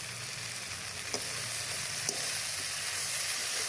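Onions and tomatoes fry in hot oil for a water spinach curry, giving a steady, loud, close sizzle with a few faint clicks of stirring, no voices.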